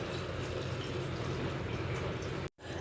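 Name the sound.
water being poured into pav bhaji pot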